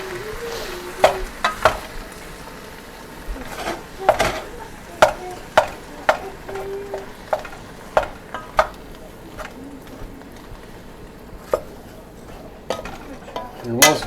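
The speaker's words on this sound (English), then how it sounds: "As you break up your ground beef, you can it'll mix in this onion." Ground beef cooking with onion and garlic in a pan while being broken up, giving a steady sizzle broken by irregular sharp scrapes and taps of a utensil, with a voice talking faintly now and then.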